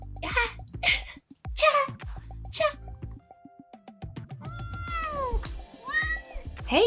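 A person, apparently a young girl, imitates a cat's meow with a few rising and falling drawn-out mews, preceded by breathy voiced sounds and mixed with quieter chatter and background noise.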